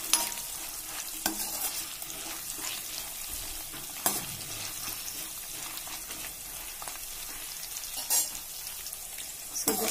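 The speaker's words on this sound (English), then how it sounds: "So I'm going to fry all this up nicely." Chana dal frying in oil in a pan for sevai upma, a continuous close crackling sizzle with a few sharp utensil taps and scrapes.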